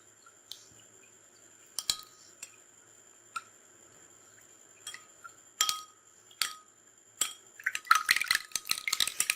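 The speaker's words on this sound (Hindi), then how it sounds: "अब इस पोटैटो के जूस के अंदर हमने ये एग वाइट पार्ट सारे का सारा इसके अंदर डाल देना है और इसको हम मिक्स करेंगे।" Egg white being mixed into potato juice in a small bowl: sparse clinks and taps of a utensil against the container, then a quicker burst of stirring and splashing near the end, close and alone.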